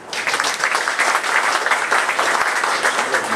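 Warm applause from a seated crowd at a cornerstone-laying ceremony for the Olivia Star building in Oliwa, Gdańsk, steady dense clapping filling the whole stretch at a fairly loud, even level.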